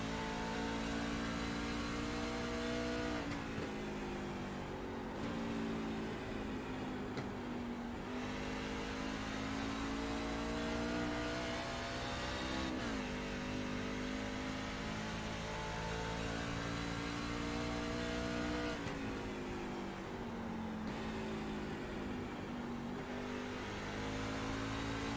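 A NASCAR Truck Series race truck at New Hampshire, its engine screaming loud and continuous as it laps the track, with the pitch dipping and climbing again through each corner.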